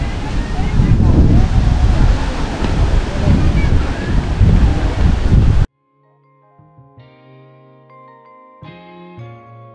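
Outdoors at a riverside campsite, rushing river water and gusting wind buffet the microphone in a loud, dense roar for about six seconds, then cut abruptly to quiet music.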